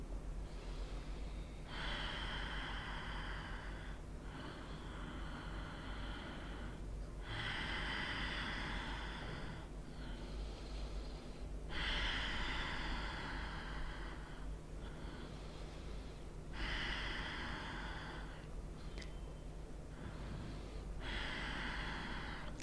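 Deep, slow yogic breaths in a breathing exercise, each long airy inhale and exhale audible up close, repeating in an even rhythm of about six breaths with short pauses between.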